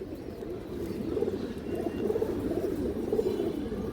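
Pigeons cooing softly and repeatedly in a loft with several birds, including Bengali fancy breeds of deep jam colour, a steady low murmur of overlapping coos without talk.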